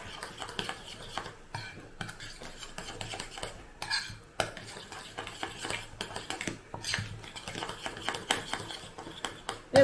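Salt and turmeric being mixed into a banana and egg batter in a bowl, quiet, irregular clinks and scrapes of a utensil against the dish with soft stirring between, close but faint.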